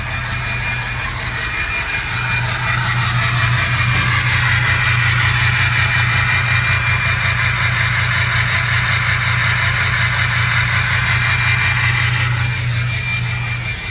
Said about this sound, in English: Dual straight pipe, 6 inch all the way back. Sounds crazy.